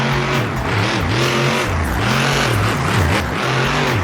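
A monster truck engine roars loudly during a freestyle run at a Monster Jam show in Grand Rapids, Michigan, the pitch rising and falling in repeated revs with no break.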